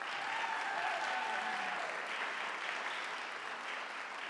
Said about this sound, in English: So before we even play this tune, can we please round of applause for Alex Paluzzi?